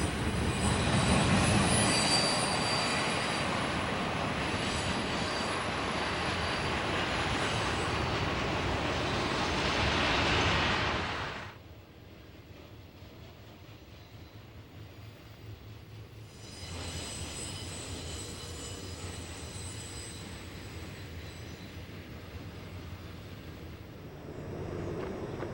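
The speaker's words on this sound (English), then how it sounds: "Four BNSF locomotives lead the train of containers and mail and UPS trailers into the sunlight" Four BNSF locomotives haul a container train with mail and UPS trailers up Cajon Pass, a loud, steady roar and rumble that drops off sharply, then returns as a quieter continuous drone.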